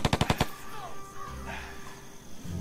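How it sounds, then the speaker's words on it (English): Gunfire in the video game Steam Squad opens with a rapid burst of about five sharp shots, then gives way to softer game effects and rumble. "Alright, well, we're gonna try shooting him."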